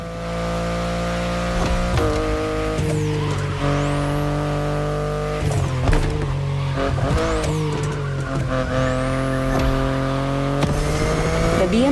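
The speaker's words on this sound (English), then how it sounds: "The BMW i8 is a car that stands out from the crowds." A BMW i8 drives in the racing video game The Crew Motorfest. The engine drones loud and steady with shifting revs, and tires squeal and skid in short bursts throughout.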